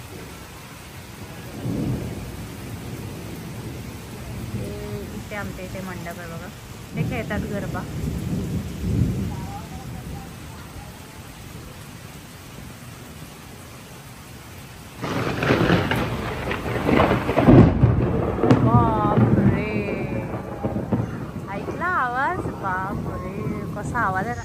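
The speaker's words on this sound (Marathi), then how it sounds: "एकदम ढगांचा आवाज होत पाऊस चालू झाला आता" Steady rain patters throughout with low rumbles of thunder, growing heavier and louder partway through, while people talk over it.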